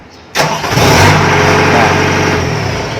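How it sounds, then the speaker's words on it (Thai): A DC93G vehicle starts up: an abrupt crank catches and settles into a loud, steady engine idle that holds close and unbroken, with no talk. "ตัวนี้คือสตาร์ทติด"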